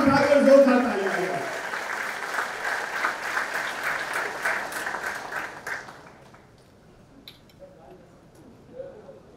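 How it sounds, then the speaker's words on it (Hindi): Audience applause at a Miss India felicitation event, a burst of loud clapping that fades over several seconds, with people talking nearby. "हाथ उठाकर, हवा में हाथ उठाकर जोर से तालियां बजाइए।"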